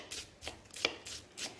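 A knife finely chops onion on a board in a kitchen while making Bolognese, with four soft, evenly spaced strokes up close and no talk.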